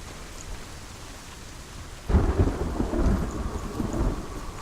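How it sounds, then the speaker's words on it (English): Thunder rumbles and rain pours in Hellblade: Senua's Sacrifice, a quiet ambient bed until a loud, close thunderclap breaks in about halfway and the storm's rolling rumble and steady rain carry on to the end, with no voices. "Of course it'd be thundering, raining"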